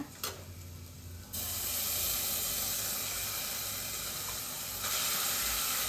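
Ground spice paste of cinnamon, fennel and cloves hits a hot pan with cooked onions, giving a steady loud sizzle and hiss that swells after a brief quieter start and continues without talk.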